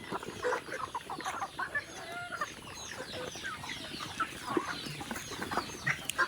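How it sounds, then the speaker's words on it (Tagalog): Chickens cluck and chatter steadily in a backyard flock, with overlapping calls near and farther off, with ducks also kept nearby. "atong manok ko"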